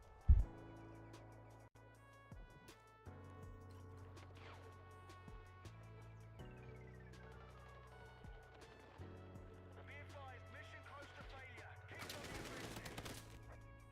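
Video game combat sounds: sharp gunshots and a burst of fire, with a grenade explosion near the end, fairly faint and mixed with game music and ambience.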